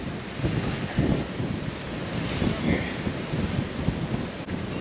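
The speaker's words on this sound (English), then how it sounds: "So let's, I'll get him put in here now because it is kind of windy." Wind buffets the microphone outdoors at a calving pen, a constant rough rumbling roar with gusty swells and no clear pauses.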